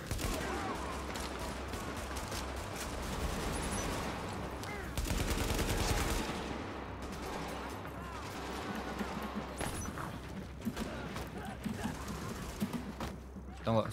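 Gunfire in the video game The Division during a fight with a sniper, dense rapid bursts and shots layered over game noise, loud throughout with a short louder stretch in the middle.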